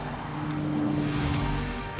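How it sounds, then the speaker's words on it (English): A 2017 Nissan GT-R on the move, its engine and road noise forming a steady, fairly loud drone heard from inside the car, with a brief rise in pitch partway through and no talking. "Driving a GTR"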